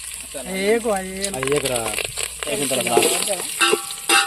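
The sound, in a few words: ginger added to hot oil, sizzling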